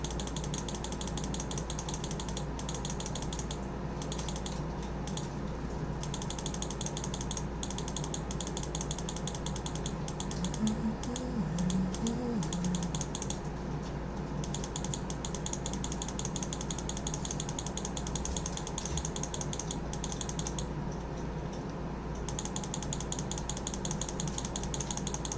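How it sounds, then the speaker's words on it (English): Steady, rapid mechanical clicking from someone playing a clicker game, continuous and fairly even throughout with a constant hum underneath. "Clicking and clicking and clicking."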